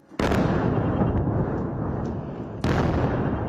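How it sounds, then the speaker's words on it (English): A huge explosion in Beirut at night erupts as a loud, sustained roaring blast, followed a couple of seconds later by a second sharp, heavy burst, with no voices. "And as night fell, a huge explosion in Beirut."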